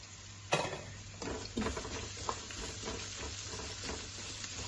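Ginger and garlic fry with vegetables in a pan, giving a steady soft sizzle broken by several stirring scrapes and clinks of a utensil. The sound is close, fairly quiet and has no voices.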